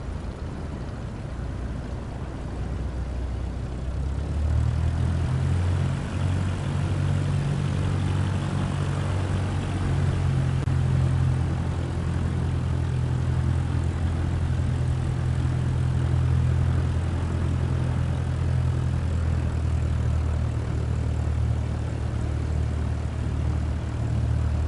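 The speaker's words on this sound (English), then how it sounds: "Now slowly taxi onto the runway and align the plane with the center line." Airplane engine in the PS5 flight simulator Flight Sim 24 while taxiing onto a runway, a steady droning hum that rises after a few seconds and holds, loud and continuous with no speech.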